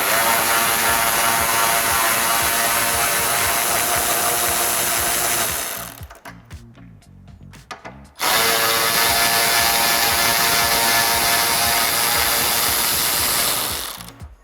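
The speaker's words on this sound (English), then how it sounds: "Now grab your 10mm socket and undo the bolts on top of the grill on both sides." A 10mm socket removing the upper grille bolts on a 2005-2009 Ford Mustang; loud, close rapid mechanical whirring runs for about six seconds, drops into a short quieter gap of scattered clicks, then resumes just as loud.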